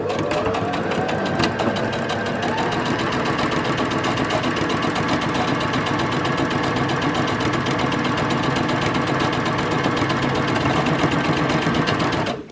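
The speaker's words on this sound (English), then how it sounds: "I'm just going to sew along the two open edges" A sewing machine runs steadily and loudly at close range as two open fabric edges are stitched together, a continuous whirring drone lasting the whole stretch without pauses or voices.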